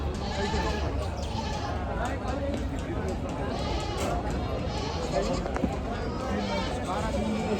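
Goats bleat at a busy livestock market where goats, sheep and poultry are traded, their calls rising here and there over a steady crowd murmur and continuous talk throughout.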